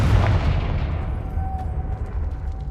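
A Confringo spell blast in Hogwarts Legacy lands as a loud, booming explosion that rumbles and slowly fades over a few seconds, with no talking.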